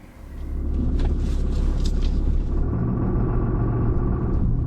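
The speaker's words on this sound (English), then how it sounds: "That's how a diesel is supposed to sound, by the way." A RAM 3500 with a Cummins diesel engine rumbles loud and steady after starting up, a deep continuous drone with no talking over it.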